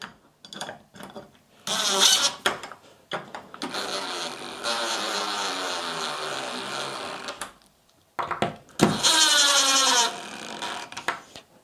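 Cordless drill driving screws into a hinge while hanging a new door in an old frame, whining bursts that rise in pitch and stop, with short clicks and handling between runs, close by.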